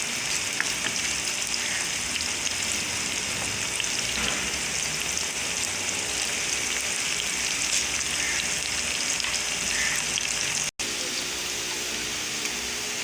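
Bitter gourd with minced meat frying in a pan gives a steady, dense sizzle that runs close and loud without a break, with a short dropout near the end and no talk over it.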